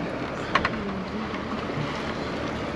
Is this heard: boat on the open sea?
yes